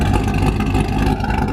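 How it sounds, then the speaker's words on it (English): A cammed C7 Corvette Z06 roars through a loud, revving exhaust, a dense, steady engine blare sustained close up throughout the short burst with no pauses. "the exhaust is so loud."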